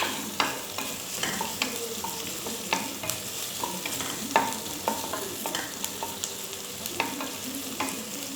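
Onions sautéed and stirred in a pan for ghee rice, with a steady soft sizzle of frying beneath repeated scraping clicks of a spoon against the pan, moderately close with no voices.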